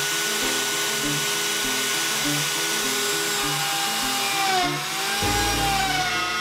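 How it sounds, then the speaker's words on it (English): Router plunge-cutting a wooden breadboard end, guided by a fence and stepping down in depth: a loud, steady high whine running throughout, with a brief dip and a shift in tone near the end. "I set my router fence to that distance and I also set so that it'll eventually plunge in multiple steps down to the right depth."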